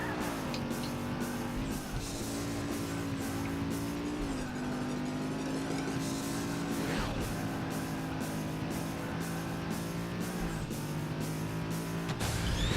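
Race cars roar along in a Burnout race on PS2, a loud, unbroken engine drone with pitch rising and dipping through gear changes, punctuated by brief skids and tire squeals.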